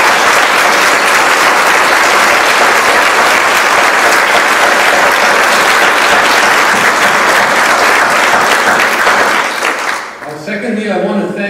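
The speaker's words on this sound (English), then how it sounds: "I do want to give another round of applause to the candidates." A crowd at a ward community meeting in a church applauds the candidates, loud sustained clapping for about ten seconds before it drops away and a voice begins.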